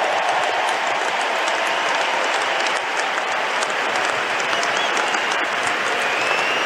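Sustained, dense applause fills a large stadium crowd after the 2021 US Open women's final between Emma Raducanu and Leylah Fernandez, steady and loud throughout with no pause.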